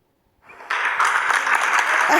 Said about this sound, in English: Clap for me, Jean.